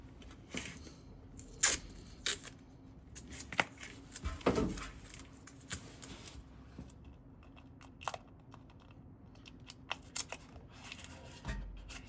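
Strips of tape are torn and pressed onto a car body to make a pattern, heard as scattered sharp ripping and crinkling bursts with quiet gaps between, close by and fairly faint.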